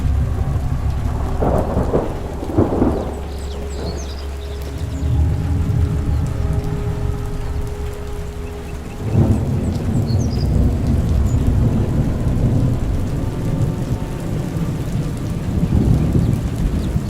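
Thunder rumbles loudly during a storm amid steady rain, with deep rolling booms near the start and again midway over constant rainfall, no voices.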